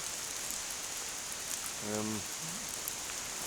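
Heavy rain falls steadily through Whitehouse Woods at Lamlash, a continuous dense hiss of drops on leaves and ground with a brief tonal call briefly rising above it midway.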